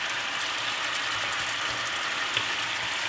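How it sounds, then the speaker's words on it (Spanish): A steady, loud sizzle rises from a rice pan on high heat as prawns go in, a continuous frying hiss with one small clatter near the end. "Ahora le voy a añadir los langostinos"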